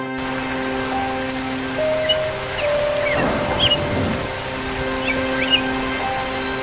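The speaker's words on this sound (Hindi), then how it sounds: "अरे ये तो बारिश शुरू हो गई" Cartoon rain begins falling as a soft, steady patter beneath light musical tones, with a brief rushing swell in the middle.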